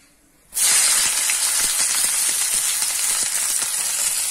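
Bay leaves and chopped onion fry in hot oil, producing a sudden loud, steady sizzle and hiss that starts abruptly and continues without a break, close up.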